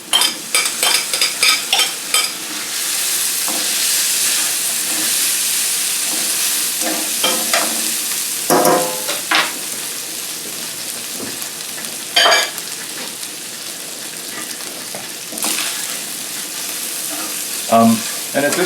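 Sausage sizzles loudly in a pan while being stirred for a pasta dish, the spoon scraping and clattering in bursts over a steady hiss, with no talking.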